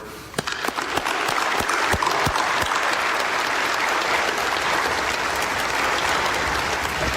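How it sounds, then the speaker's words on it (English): Sustained audience applause at the Billings West High School graduation ceremony honouring teachers, a dense, loud wash of many hands clapping steadily for several seconds without a break. "Please join me in giving them a round of applause for their commitment"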